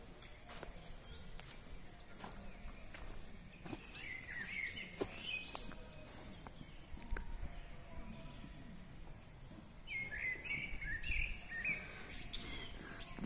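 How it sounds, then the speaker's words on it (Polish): A common blackbird sings outdoors in a rural yard, with two short bright phrases, one early and one near the end, moderately close over a faint, noisy background. "Piękny śpiewak ten kos."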